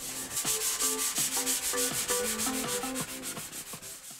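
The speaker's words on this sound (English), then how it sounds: "more sanding." Steady rhythmic rubbing and scraping, a repeated back-and-forth sanding stroke on a drywall surface in a yurt bedroom, close and continuous with no talk.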